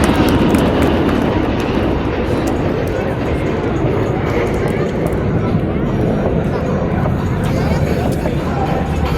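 Tejas light combat aircraft flying over in formation at an air show, a loud steady jet roar filling the whole stretch, with a public-address voice and crowd murmur underneath.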